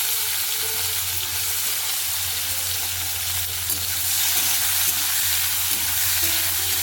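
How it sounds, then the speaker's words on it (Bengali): Potatoes sizzle steadily in hot oil in a wok for a Bengali vegetable chorchori, a continuous close crackling hiss with a low hum underneath and no talking. "এদিকে আমার কড়াইটা গরম হয়ে গেছে, এদিকে আলুটা ছেড়ে দিলাম আমি"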